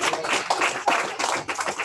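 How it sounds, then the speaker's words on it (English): A small audience gives a short round of applause, a few overlapping claps, moderately loud and fairly close, with no talk over it. "Give her a round of applause, right?"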